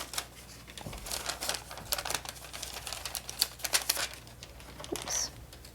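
Foiled paper stars are peeled from their backing by hand in a quiet room, giving a run of small crinkling, crackling pulls and faint papery ticks spread over several seconds.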